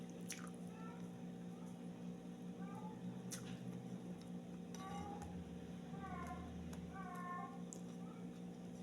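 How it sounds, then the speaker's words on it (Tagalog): A cat meows several times, faint and drawn out, scattered over a steady low electrical hum. "Narinig yung pusa."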